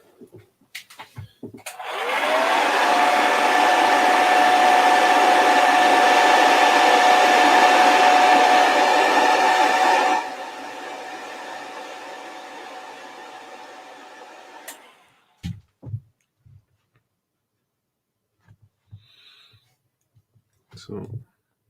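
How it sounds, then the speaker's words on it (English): A hairdryer, used to dry paint on a miniature, switches on loudly and blows steadily with a whining hum, then drops to a lower setting before cutting off, followed by a few faint clicks and handling noises. "Just going to hit this with a hairdryer."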